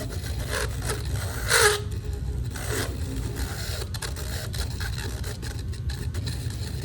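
A small grinder buzzes against plastic injection feeds on an N scale Amtrak Superline train board, making a faint, uneven whirring with short louder bursts near the start.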